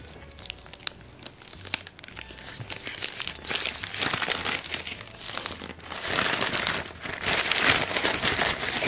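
Crinkly plastic packaging for s'more ice cream being opened at close range, a steady run of rustling and crackling that grows louder and denser toward the end, with no talk.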